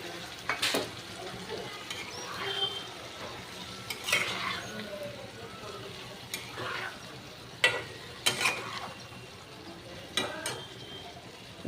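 Ground mustard seed and green chili paste sizzle gently in a hot pan of greens, with occasional sharp metallic clinks and scrapes from a spoon stirring, fairly quiet overall.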